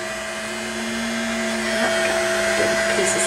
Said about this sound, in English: I'm going to grab my heat gun, my Craftsman heat gun, and I'm going to put it on medium